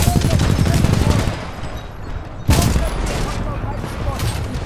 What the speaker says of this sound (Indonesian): Apa ni dia mati-mati nak tembak aku ni?